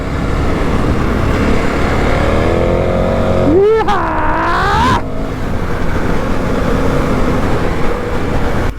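A KTM 1290 Super Adventure R motorcycle rides offroad on a muddy track, its engine droning loud and close throughout, with a brief rising rev as the throttle opens before settling back to a steady roar.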